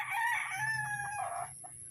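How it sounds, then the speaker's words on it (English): Roosters crow on a rural back road near rice fields in Santa Ana, Pampanga, giving loud, close, drawn-out crows over a low engine hum, with no talk. "some roosters."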